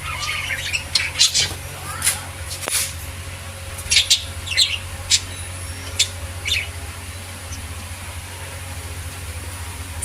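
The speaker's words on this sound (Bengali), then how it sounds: "একটু আপনাদেরকে দেখাই আমাদের পাখিগুলো" Pet birds, a parrot among them, let out sharp squawks and quick chirps in scattered bursts over about ten seconds, fairly close, above a low, constant background hum.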